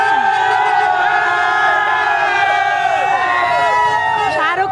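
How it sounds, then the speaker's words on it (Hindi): Dense crowd of moviegoers packed outside a cinema for a Pathaan screening, a loud continuous roar of voices and shouts with rising whoops and cheers throughout. "काफी भीड़ है और"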